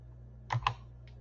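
A few quick keystrokes tapped on a computer keyboard while a search term is typed, faint and close over a low electrical hum, with a couple of clustered clicks and one lighter tap after.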